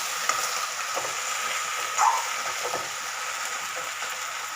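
Peanuts frying in a pan on a stove give a steady, loud sizzle with faint stirring scrapes, continuous and close, no voices.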